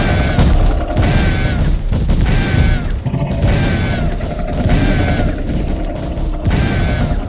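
Fiery explosion blasting Figure inside a fire damp room in the horror game Doors, a dense, loud rumbling roar with repeated booming surges sustained throughout.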